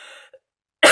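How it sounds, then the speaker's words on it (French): A single sharp, harsh cough bursts out loudly at the end, after a short stretch of quiet and faint breath. "si possible avant que je crève à force de tousser"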